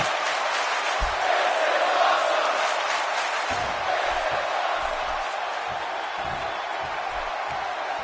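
A large crowd in the WWE 2K17 wrestling video game roars steadily with cheering and shouting, a dense wall of noise throughout, with occasional low thumps underneath, during a Hell in the Cell match.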